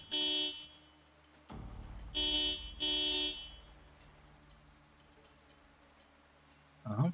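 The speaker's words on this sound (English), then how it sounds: "I do a series of honks here." A car horn sounded in the Project Zomboid zombie game, three separate honks, the first short and the next two longer, over a low engine rumble, with a brief rumble at the end.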